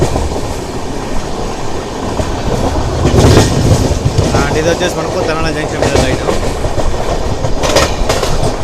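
The Bokaro Express from Dhanbad to Alleppey rumbles along the rails with steady clickety-clack from inside a general coach, loud and continuous, while someone talks over it.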